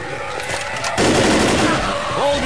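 Video game gunfire in Left 4 Dead, a dense, loud burst of rapid shots and chaotic action sounds, mixed with shouted voices.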